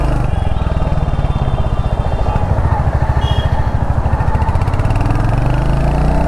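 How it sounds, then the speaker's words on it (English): A 2022 Royal Enfield Hunter 350 motorcycle with its stock exhaust thumps out a steady, deep, bassy pulsing note, loud and close, holding even throughout with no talk over it. "I hope that you guys can hear the exhaust note. It's really bassy and super awesome."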